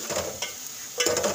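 Chopped onions sizzle steadily in a pan while being softened for tinda sabzi, with two bursts of stirring and scraping breaking through the close frying hiss; no one speaks.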